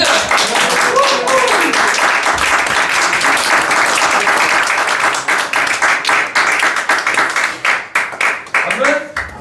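A church congregation at a French-language service applauds, with sustained, dense clapping that thins into scattered, uneven claps toward the end while a voice speaks over it.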